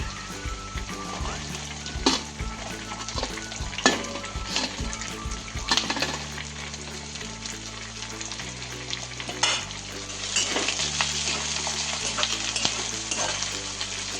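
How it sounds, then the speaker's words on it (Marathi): Chopped onion tossed into hot oil in a pan for a traditional Marathi gholchi bhaji, a loud steady sizzle broken by repeated clatters of a spoon stirring against the pan. "आता कांदा टाकून घेते।"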